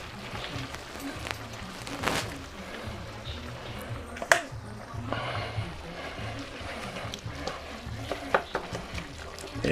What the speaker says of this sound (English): but I want to stir it a little bit